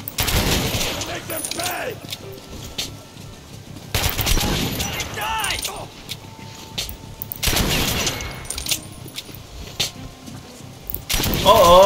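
Gunfire in Metro Last Light Redux comes in bursts of rapid, loud automatic shots separated by quieter stretches, with a voice speaking amid the shooting.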